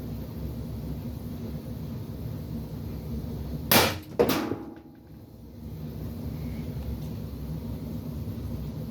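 A less-lethal marker running at very high pressure fires a 9.9-gram white round riot ball: two sharp, loud pneumatic bangs about half a second apart, over steady outdoor background noise, with no talking.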